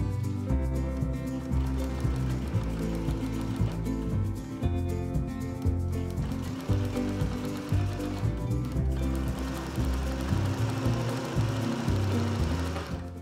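A sewing machine hems a channel for thin elastic in fabric from a bed sheet, running steadily and close up with a dense, continuous mechanical whir and stitching rattle for the whole stretch, briefly easing and resuming a few times, with no voices.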